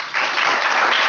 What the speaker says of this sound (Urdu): آپ کے دوستوں کی تالیاں